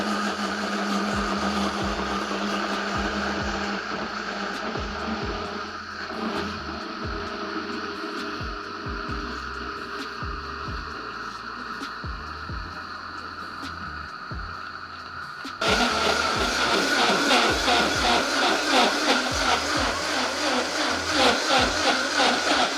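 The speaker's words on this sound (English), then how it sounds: "And let's set our blender." A kitchen blender whirs steadily while blending sea moss with coconut milk for a latte, a constant motor hum that jumps to a louder, harsher churning pitch partway through, with no talking.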